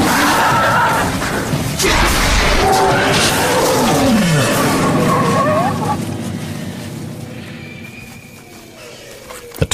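Loud, close tiger roars and growls rise and fall for several seconds. They fade toward the end, and a sharp knock cuts them off.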